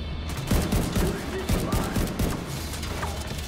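Sniper gunfire in the video game The Division: a rapid series of sharp gunshot cracks and booms layered with steady game noise, loud and close, with a player's voice talking over it.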